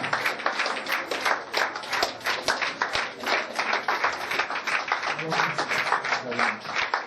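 An audience applauds at an end-of-year awards night, with steady, dense clapping from many hands that carries on throughout the clip at a moderate level.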